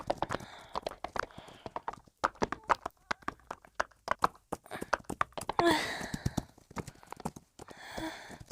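A horse runs in Roblox Wild Horse Island, its hooves making a fast, close clip-clop rhythm that stays steady throughout, with a brief snort partway through and no talking.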